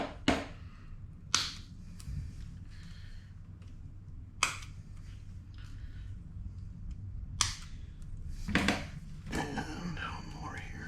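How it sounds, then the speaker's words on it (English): Sharp snips from cutters during a Kaabo Skywalker 10S+ scooter flat tire repair, five or six crisp clicks spaced irregularly over a low steady background hum, close and fairly loud. "let's snip these"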